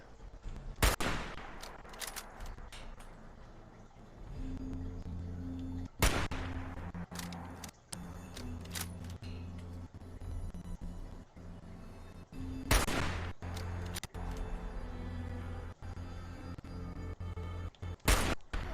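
Gunfire in Fallout 4, several loud, sharp shots spaced seconds apart with sporadic smaller pops between them, over a low steady hum of game ambience.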